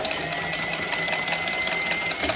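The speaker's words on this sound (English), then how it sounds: "with the Milwaukee cutter, you just put it into reverse, so you can centralise it" A Milwaukee cordless pipe cutter cuts pipe during a budget boiler installation, giving a steady, close motor whine that holds evenly throughout.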